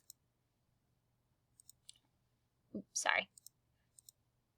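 A computer mouse clicking while working in a layout program, with sparse sharp clicks spread across the clip and a short burst of speech in the middle.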